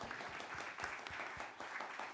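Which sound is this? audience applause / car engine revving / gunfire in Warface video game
audience applause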